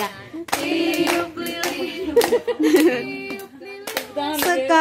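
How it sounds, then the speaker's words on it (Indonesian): Clapping from family and guests at a birthday celebration, rhythmic hand claps mixed with singing and voices, close and lively over several seconds. "Tepuk tangan, tepuk tangan."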